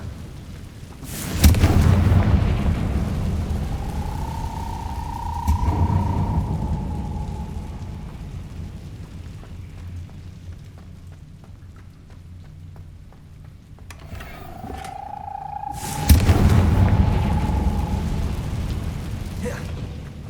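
Two heavy blasts from the Confringo spell in the game Hogwarts Legacy, each a sharp boom that rolls into a long rumbling decay, with a rising magical whoosh tone between them and no speech.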